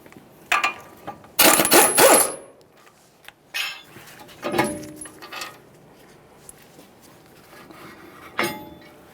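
Metallic clanks and ratcheting rattles from removing the brake caliper mounting bolts on a Ford F-150 during wheel bearing and hub replacement, close and loud in irregular bursts with quiet pauses between.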